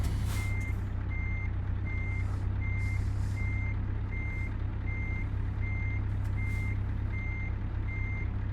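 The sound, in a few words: truck suspension lowering in truck simulator video game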